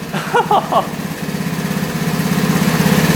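A three-wheeler's small engine idles with a steady, close, rumbling putter that grows slightly louder, while someone talks briefly over it at the start.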